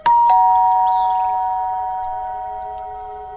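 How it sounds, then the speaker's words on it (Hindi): A doorbell rings once with a clear two-tone chime, ringing out and slowly fading in a quiet room. "कुछ देर बाद डोरबेल बजती है।"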